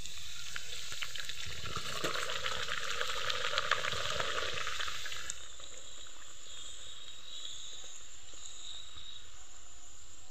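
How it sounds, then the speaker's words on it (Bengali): Luchi frying in hot oil, a bright crackling sizzle that is busy and close for the first half, then settles into a quieter, thinner bubbling hiss. "একইভাবে সম্পূর্ণ লুচিগুলোকে ভেজে নেব"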